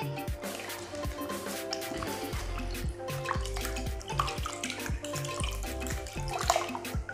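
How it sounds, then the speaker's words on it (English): Water is poured into a basin for handwashing, with close, steady trickling and splashing and a run of small drips. "I finished praying, so I just need to wash my hand."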